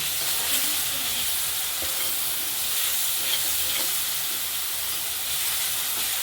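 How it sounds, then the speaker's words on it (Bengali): Spices being fried and stirred together with pepuli greens in a pan, with pysa fish to be added, give a steady broadband sizzle with soft scraping stir strokes throughout, close and continuous with no talking. "এই যে মশলা মশলাটা কষিয়ে নিচ্ছি শাকের সাথে"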